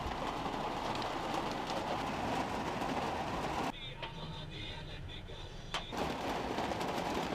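Heavy rainstorm drumming on a truck from inside the cab, a dense steady roar that drops to a softer patter for a couple of seconds before the full downpour returns.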